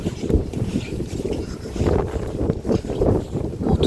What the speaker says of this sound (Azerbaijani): Çöl yaman küləklidir.